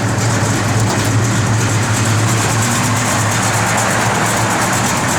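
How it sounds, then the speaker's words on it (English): Lopey idle from a 1971 Dodge Demon engine with an aggressive cam, a steady loud rumble with an uneven, choppy pulse continuing throughout without pause. "Good sounding cam to that car."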